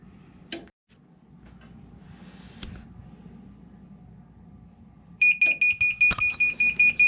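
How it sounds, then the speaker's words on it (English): Heat press timer alarm pressing hats: after a few soft clicks and handling noises, a loud beeping starts and repeats in a quick, even pattern until the end. "All right, timer went off."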